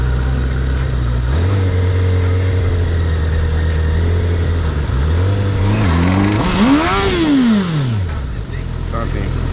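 A liter bike motorcycle engine idles steadily during wheelie practice, then revs up in several rising and falling sweeps that peak in one long, loud climb before dropping back. Voices can be heard nearby.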